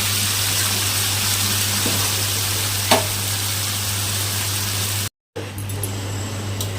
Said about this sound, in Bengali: মশলা হয়ে গেছে, তেলটা ছেড়ে দিয়েছে। এখন আমি এর মধ্যে পেঁপেগুলো দিয়ে দেব।